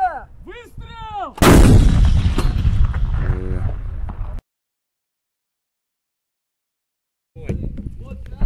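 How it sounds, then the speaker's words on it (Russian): A loud artillery gun blast at a university military training centre firing range in Kazan, a single heavy boom that rolls on for a few seconds before abruptly cutting out, with shouted Russian commands before the shot and again after a gap. "Огонь! Огонь! Орудие! Выстрел!"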